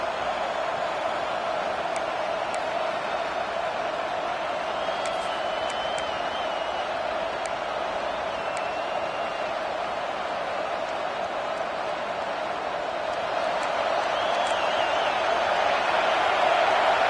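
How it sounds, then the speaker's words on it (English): A large stadium crowd at a football game roars in a sustained, dense wall of cheering and noise, swelling louder toward the end, with scattered whistles and shouts on top. "This place rocking, the crowd forces a false start."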